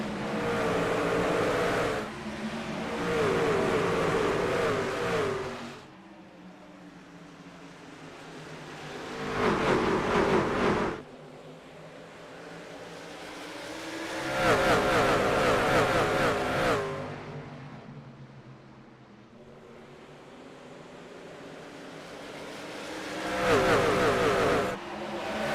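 Race truck engines at Richmond in the iRacing video game, a NASCAR-style truck series: loud engine roars swell and fade as packs of trucks pass repeatedly, with revving tones over a constant droning background.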